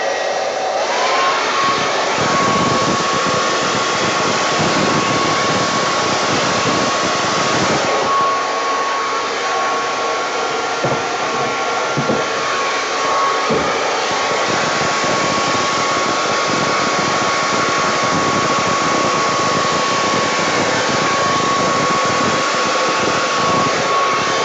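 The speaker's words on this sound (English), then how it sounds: "I'll see if there's enough oomph in the blow dryer." Hair dryer blowing steadily and loudly on a pour painting of Crater Lake, a constant rushing whoosh with a fixed whine, continuous for the whole stretch with no talking.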